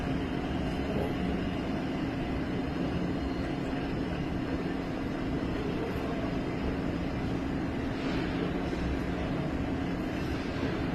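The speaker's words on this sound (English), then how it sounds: "That's a nice manifest or a long freight thing where you have a train" A long freight train, a manifest with cars loaded with rail along Government Boulevard, rolls past in a loud, steady, continuous roar and rumble that holds at close range without a break.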